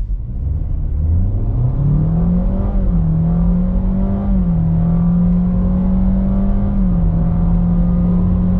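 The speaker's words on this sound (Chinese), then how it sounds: "下面先测下百公里加速" A 2022 Honda Fit 1.5 hybrid with a 1.5-litre naturally aspirated engine, electric motor and eCVT accelerates hard from a standstill toward 100 km/h. The engine drone climbs quickly and then holds a steady, loud high note with brief dips, over constant road rumble.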